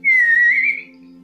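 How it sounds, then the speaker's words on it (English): A person gives one short, clear whistle on a single sustained pitch that wavers slightly and lasts under a second, close and loud, with a low hum beneath it. "I'm whistling!"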